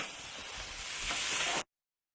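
Raw shrimp tossed into a hot pan of leftovers set a sharp broadband sizzle going, loud and steady for about a second and a half before it cuts off abruptly.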